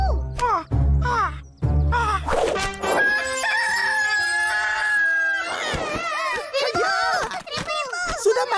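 A cartoon rooster crows loudly in a few drawn-out, wavering calls, set among a busy animated soundtrack with other voices and effects around it.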